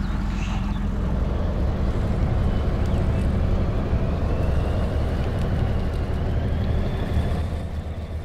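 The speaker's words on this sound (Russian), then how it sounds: "Монстры лесовозы" Heavy logging truck engine rumbling steadily in the off-road game Spintires MudRunner, a continuous low droning roar at constant level throughout with no talk.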